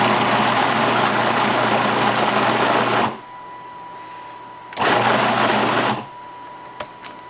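A food processor whirs loudly as it chops tomatillos for salsa verde, running in two pulses of about three seconds and one second with quiet gaps between.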